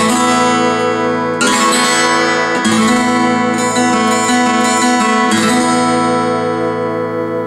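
Bright, ringing mid-to-high strums and notes from a black VG KTR-45E acoustic-electric guitar made by Terada, with long sustain and rich harmonics, played close and clear in repeated strummed phrases with no talking.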